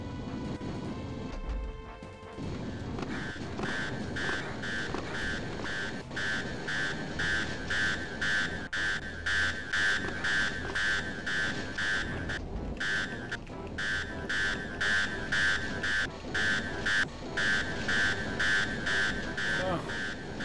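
Alarm blaring in the 1995 game Star Wars: Dark Forces, a loud, steady tone pulsing in a regular rhythm throughout, layered with dense game noise and occasional crashes.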